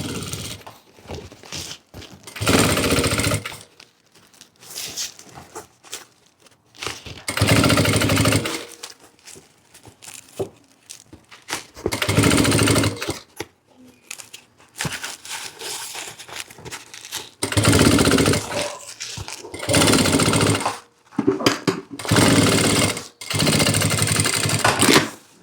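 Domestic sewing machine stitching a fabric panel with lining, in bursts of loud, steady whirring separated by short pauses over about 25 seconds, no talking.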